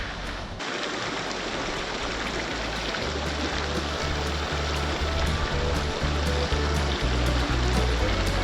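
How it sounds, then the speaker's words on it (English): A small creek flows steadily close by in open Wyoming country, a continuous broadband rush and trickle of water with some low thumping, probably footsteps or wind, and no voices. "We're walking around here up and down this little old creek"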